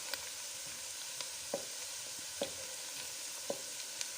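White onions sizzle steadily in a frying pan, a continuous hiss with occasional soft pops and stirring clicks, close and moderately loud with no talking.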